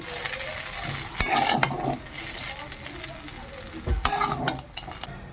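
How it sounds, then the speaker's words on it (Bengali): Pre-fried vegetables for veg chow mein are tossed and stirred in a hot pan, with a busy sizzle broken by sharp clattering knocks of the utensil against the pan; the sound is close, with no speech. "এবার দিয়ে দিচ্ছি ভেজে রাখা সবজিগুলো এবার ভালো করে মিশিয়ে নেব"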